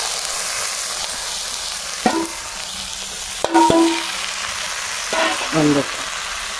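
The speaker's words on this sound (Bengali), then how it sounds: "চালিয়া ডালিয়া একসাথে ভাজি নিয়ে ওইটা খিচুড়ি এলা টেস্ট হবে" Rice and lentils frying together in a pan for khichuri give a steady close sizzle, broken by a few scraping stirs, while a voice speaks briefly over the cooking.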